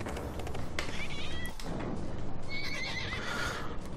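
Horse or unicorn neighing inside the Trials Fusion motorbike game, with a high whinny rising near the end over a steady dense game backdrop of engine and effects noise.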